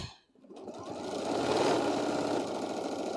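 A sewing machine stitching slowly over a pin while a bag is sewn, its motor whirring up after a brief pause into a steady, close hum with a fine rapid needle patter.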